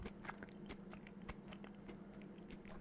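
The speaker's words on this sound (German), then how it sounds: "Hört man mich eigentlich schmatzen?" Quiet, close-up lip-smacking and chewing plays out as a steady run of small wet clicks and crunches over a low hum, with no talking.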